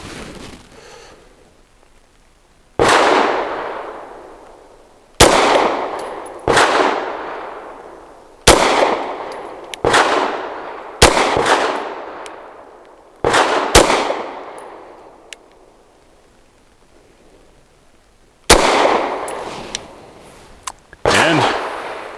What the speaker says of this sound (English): I'm doing it standing up and I'm shooting with that very affordable Sterling ammo.